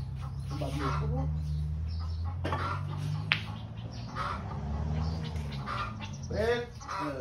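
Ducks call with repeated nasal honks and quacks, close by over a low steady hum, with people talking now and then.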